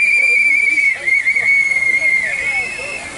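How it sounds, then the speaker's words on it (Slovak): Whistles blown by protesters at an outdoor political rally, a shrill sustained whistle tone dominating with shorter whistle blasts and crowd noise mixed in, loud and close. "pomohli sme si píšťalkami, je to veľmi dobrá vec"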